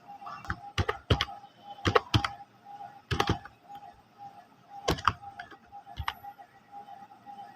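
Someone types a name on a computer keyboard, giving clusters of crisp key clicks in irregular bursts with pauses between, close and moderately quiet over a steady faint background hum.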